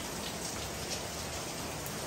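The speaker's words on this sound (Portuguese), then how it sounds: "é chuva, viu?" Heavy rain pours steadily outside a house in Guarujá, a dense, even hiss of drops with no voices.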